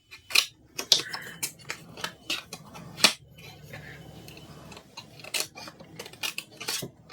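Small scissors snip paper while a hope banner is being crafted for a journal, a series of crisp, close clicks and cuts arriving in irregular bursts with quiet pauses between them.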